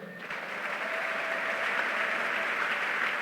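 A church congregation applauds at a sermon, steady dense clapping from many hands sustained throughout at moderate volume.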